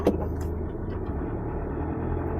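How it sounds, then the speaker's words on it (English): A 2023 Ford Ranger XL 4x4 bi-turbo pickup drives along with a steady low engine and road rumble heard from inside the cab, moderately loud and without talking. "just going to go for a drive in the XL Ranger"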